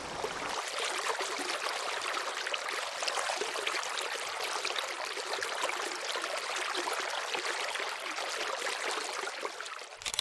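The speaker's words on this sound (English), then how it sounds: "Hopefully you can hear me over this rushing water." Close, continuous rush of stream water splashing and churning, bright and steady throughout with no voices, at a stream where dippers live.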